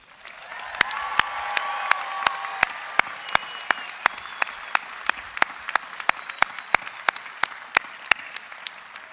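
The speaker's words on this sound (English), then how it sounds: "I'd like to start off with a formal, huge round of applause for the class of" Commencement audience applauding the 2022 graduating class, a sustained wash of clapping from a large crowd with sharp percussive claps standing out throughout.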